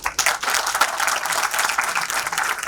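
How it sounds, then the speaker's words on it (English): Students at a PGDM orientation applauding in a hall, a loud, dense patter of many hands clapping that starts abruptly and holds steady throughout, with no talk over it. "a huge round of applause for each one of you"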